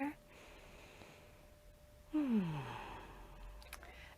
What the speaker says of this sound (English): And you can take another breath here.